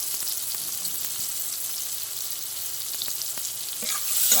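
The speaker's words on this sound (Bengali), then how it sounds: "টমেটোকে ভালো করে একটু করে ভেজে নেবো" Tomatoes seasoned with salt and turmeric fry in a pan with a steady, soft sizzle, with a few faint stirring scrapes and no voices.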